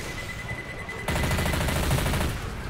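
An MP5 submachine gun in Left 4 Dead 2 opens up after a moment of ambient game noise, firing a loud, rapid, continuous burst for well over a second.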